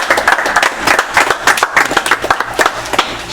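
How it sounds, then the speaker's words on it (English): Applause from the audience at a community rites-of-passage gathering: dense, steady clapping from many hands, loud and close, holding through the whole stretch with no talk over it. "So can I have a round of applause and encouragement,"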